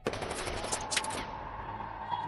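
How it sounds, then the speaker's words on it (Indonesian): Rapid automatic gunfire in an action film shootout, a dense continuous rattle of shots with a sharp burst near the middle, loud and filling the short stretch. "Chris dan anak buahnya melepaskan tembakan untuk membunuh Hasan dan Mehdi"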